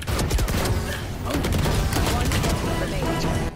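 VALORANT gunfire comes as a dense, nonstop burst of shotgun blasts and other shots, loud and close through the whole stretch, with yelling mixed in.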